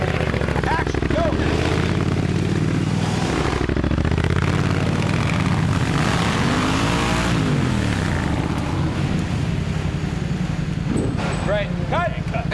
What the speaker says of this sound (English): the InGen soldiers are posse'd up being badass and cruising out of the bushes on bikes